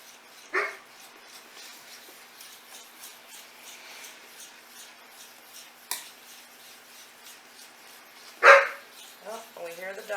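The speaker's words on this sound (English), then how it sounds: "dog going nuts. There's somebody outside." A dog barks in a few short bursts at a distance at someone outside, with quiet background noise and a kitchen hum between the barks while chocolate gravy cooks.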